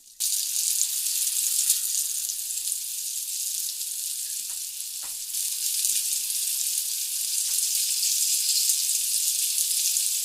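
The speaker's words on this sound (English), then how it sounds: "then we're just going to fry the shin, give it a nice sear on all the sides as soon as the oil is hot" Beef shin sears in hot oil, giving a loud, bright, continuous hiss from start to finish, with a few small pops and clinks partway through.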